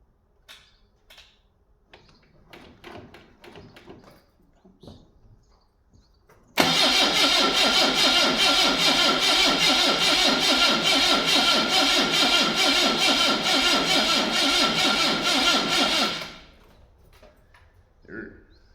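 An old yellow vehicle's engine cranks over a few times, then catches and runs, settling into a loud, steady run for about nine seconds close to the microphone before it cuts off, with quiet clicks and handling noises around it.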